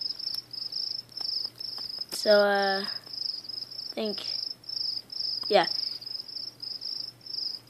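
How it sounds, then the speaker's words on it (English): A cricket chirps continuously in the video game The Visitor, a steady high, pulsing trill running throughout, broken by a few short tonal game sounds while someone briefly speaks. "that cricket is annoying"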